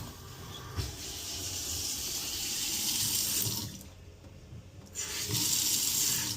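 Steady rushing hot water runs from a Moen kitchen faucet, a continuous hiss that briefly dips in strength midway before surging back.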